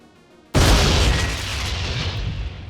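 A single loud grenade blast in the video game Memories of Mars erupts suddenly after a quiet moment, then rumbles and slowly decays, close and alone.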